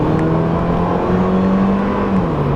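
Mazda Miata four-cylinder engine and exhaust droning steadily up close with a high-pitched, whiny tone, pitch rising slightly and holding before easing off near the end, with no talking.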